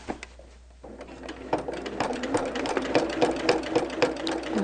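A sewing machine quilting a seam about an eighth of an inch from the edge around a plus shape, starting after a brief pause and then running steadily with a fast, even stitching rhythm, close and alone.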